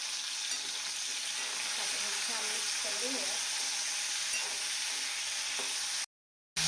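Ivy gourd (tondli) sautéing in oil with salt and turmeric gives a steady, close sizzle with soft stirring scrapes, and a voice speaks briefly over it before it cuts off near the end.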